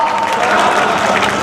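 Dense, loud applause from an audience at a Hindi kavi sammelan poetry recital, a continuous wash of clapping with crowd murmur throughout.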